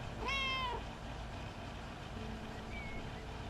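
An angry cat in a video game lets out one loud, drawn-out meow near the start, and a faint second cry follows later, both set against a low rumbling road-noise background.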